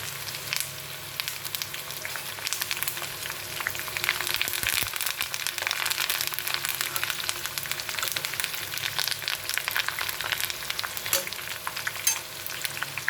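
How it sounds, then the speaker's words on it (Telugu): A batch of okra pakodi deep frying in oil with curry leaves, a dense, continuous crackling sizzle that holds steady throughout, loud and close with no talk. "ఇదిగోండి రెండో వాయి వేసాను, ఏగుతున్నాయి."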